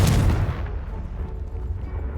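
A single loud explosive burst from the Confringo spell in the Hogwarts Legacy video game, a heavy boom at the start that fades into a low rumbling tail.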